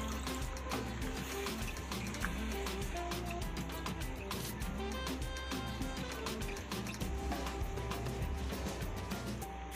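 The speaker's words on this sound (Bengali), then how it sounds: "এবার আমি পরিমাণ মতো মাছের ঝোল দিয়ে দেব" Fish curry gravy for baby hilsa being poured into a cooking pan, a continuous liquid pour and splash with small drips and clinks, steady and close throughout.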